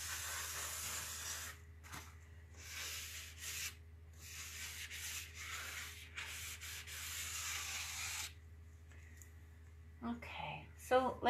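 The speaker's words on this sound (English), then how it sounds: "take my buffing pad and buff it in just to press everything in really nice and smooth" A buffing pad rubs firmly over a rub-on transfer on a painted dresser, giving steady broadband scrubbing strokes that pause briefly around the middle and stop near the end, close to the mic.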